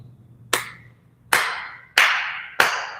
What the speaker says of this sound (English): Lord Chaitanya said, he clapped 3 times